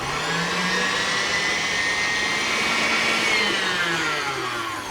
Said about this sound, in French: on va bien fouetter à vitesse maximale pendant peut-être 7-8 minutes, le temps que le jaune et le sucre soient bien fondus ensemble